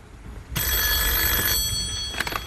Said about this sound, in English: And now the phone is going to ring.